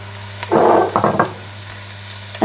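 Fennel and mushrooms hit a hot pot on an induction stove, letting out a loud sizzling burst that fades into a few quieter crackles against a steady hum.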